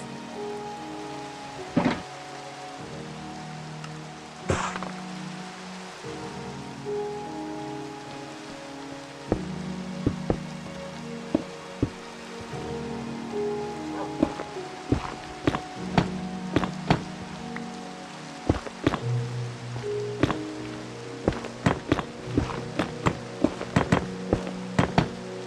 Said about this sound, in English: I like the rain. Let's leave the rain.